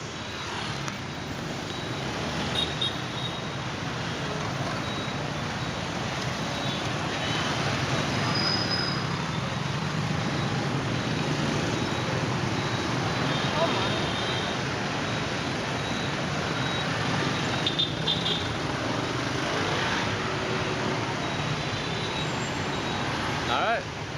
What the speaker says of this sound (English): Let the motorbikes go around us.